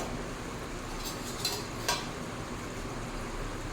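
A spoon stirs a simmering potato, pointed gourd and prawn curry in a pan, faint soft scrapes and a couple of light clinks over a low, steady sizzle.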